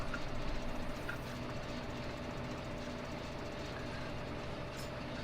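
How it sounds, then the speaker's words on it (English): A small farm tractor engine runs steadily, a continuous low, even idling drone with no breaks, moderately distant and alone without speech. "Another reason for using this tractor rather than one of the bigger ones,"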